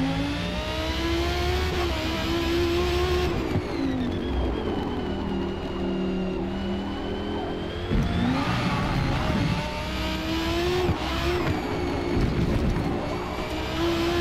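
A V6 MK3 Supra race car in a driving game screams at high revs, holding steady notes that dip and climb through shifts and corners, loud and continuous, heard alone.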